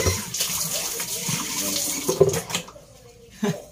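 Tap water running over raw crabs being washed in a sink, a continuous splashing rush with some clattering, that stops abruptly near the end.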